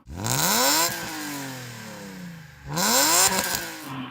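A BMW M3 E36 engine is revved hard twice, the pitch rising quickly then sinking slowly back to idle, loud and close by.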